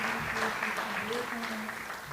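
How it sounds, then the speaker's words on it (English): A short stretch of applause at a climate and security conference, with a voice speaking over it. "A better round of applause for His Excellency Musalia Mudavadi"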